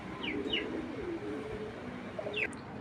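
Large pigeons from a fancier's loft coo in soft, low rolling calls, several short phrases close by, with a few higher chirps and faint fluttering over a quiet room.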